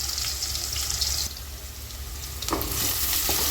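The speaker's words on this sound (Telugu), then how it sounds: "సో బ్రౌన్ అయ్యేంత వరకు ఈ ఆనియన్స్ని వేయించుకోండి నిదానంగా." Onions fry slowly in oil with cumin seeds for dhaba-style baingan bharta, making a close, even sizzle that briefly gets louder once or twice. Stirring scrapes sound over it, with no talking.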